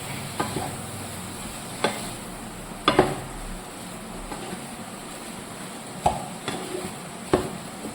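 Soya chunks dry roasting in a pan with a spoon of oil, a low sizzle under scattered scrapes and knocks of a spoon against the pan, fairly close, no talk.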